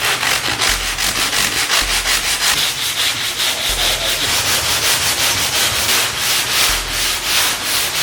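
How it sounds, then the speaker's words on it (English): Wood boards for a DIY skateboard kicker ramp being sanded by hand, a close, loud, steady rhythm of rasping back-and-forth strokes with no talking. "if you sand it down, it makes it perfect"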